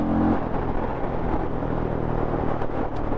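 A Hero Mavrick 440 motorcycle cruising on the road, a steady engine drone and rushing wind noise holding constant and loud from a rider's perspective, with no voices over it.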